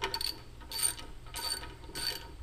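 Three short bursts of ratcheting from a hand ratchet snugging the cam gear bolts on a Volkswagen Type 1 engine camshaft, each burst a quick run of close clicks, evenly spaced and fairly quiet, with no talking.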